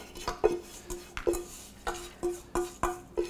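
A metal cooking pan being scraped and cleaned out with a utensil, a series of close, ringing clinks and scrapes repeating in an uneven rhythm.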